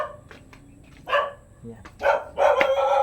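A dog barks in several sharp bursts outdoors near houses, loud and close, with someone talking over and between the barks.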